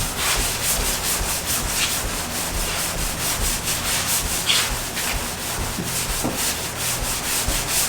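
Steady abrasive rubbing of sandpaper on a Honda Civic Type R coupe body panel, continuous rasping strokes with a regular back-and-forth rhythm, close and fairly loud.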